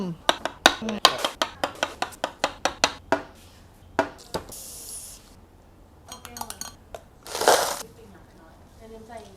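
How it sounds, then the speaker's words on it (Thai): A quick run of sharp knife chops on a board as jelly is cut into bite-size pieces, about a dozen evenly paced cuts, then a pause and a few scattered taps and a brief crinkle. "หั่นให้เป็นชิ้นพอดีคำ"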